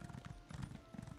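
Hooves clip-clop in a quick, steady rhythm as a horse gallops through The Elder Scrolls Online, with repeated low thuds running the length of the moment and a brief whinny-like tone.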